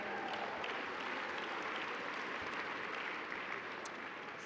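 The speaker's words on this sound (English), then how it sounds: "give yourself an applause for being here today?" Steady, dense applause from an awards ceremony audience, sustained clapping at an even level throughout with no voices standing out.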